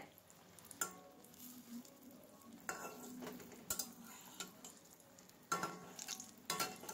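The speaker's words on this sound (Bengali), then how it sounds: "এইভাবে উল্টে পাল্টে দুই পিঠ দেখে লালচে করে বেগুনটা আমি ভেজে নেব।" Salted winter brinjal slices fry in a pan and are flipped until reddish on both sides: a quiet, low sizzle punctuated by irregular clinks and scrapes of a utensil against the pan.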